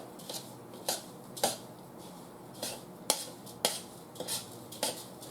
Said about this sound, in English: let's put this all and mix it all up